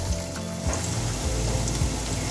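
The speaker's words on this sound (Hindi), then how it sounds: "इसको भी हम हल्का सा जो है वो फ्राई कर लेंगे, ज़्यादा फ्राई नहीं करेंगे" Onions and vegetables lightly frying in a pan, a dense, steady sizzling hiss close up with a low rumble underneath, no voices.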